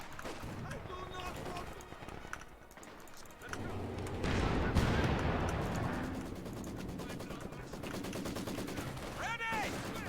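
Chaotic video game battle with bursts and scattered shots of gunfire, shouted voices and running feet mixed in, the firing swelling louder midway and continuing to the end.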